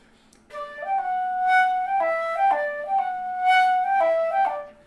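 Solo flute runs through an etude phrase twice, the accent moved onto the downbeat and the tie restored, giving smooth connected notes with a few crisp attacks, played close with no voices.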